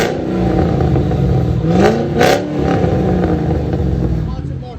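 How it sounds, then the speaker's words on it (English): A 2006 Ford Mustang Saleen S281 with a supercharged V8 and dual Flowmaster Super 10 exhaust, noted as having holes and rattles, revs loudly in two sharp rising bursts over a throaty close-up idle. "So we got a 2006 Ford Mustang Saleen. I'll let you guys hear it before."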